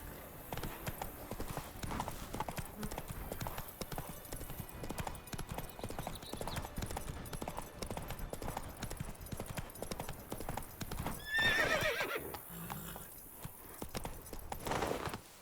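A horse gallops in The Witcher video game with a steady, continuous clip-clop of hooves throughout. There is a slightly louder burst around the later part that may include a short whinny.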